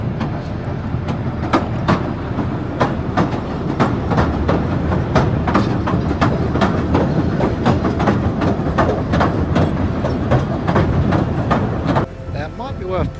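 The Southend Pier train rolls past close by, its wheels giving a loud, steady clickety-clack rhythm on the rails that continues throughout and eases off near the end.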